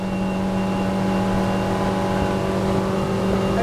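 A 2002 Sea Pro 180 DC boat's Suzuki DF140 outboard engine drones steadily at high revs, about 4,500 to 5,000 RPM, a loud continuous hum with no letup and no voices.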